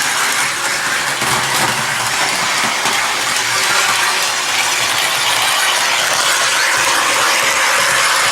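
Continuous rattling, clattering mechanical rumble of a small model train running steadily on a moving blanket, loud and close, with no pauses.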